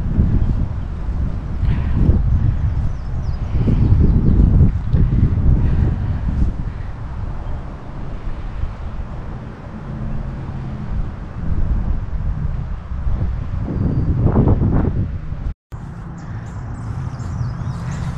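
Wind gusting through Walnut Hills Cemetery in Cincinnati, Ohio, on a crisp, chilly day, buffeting the microphone as a steady, loud broadband rush that swells and eases for the whole stretch, with a brief dropout near the end.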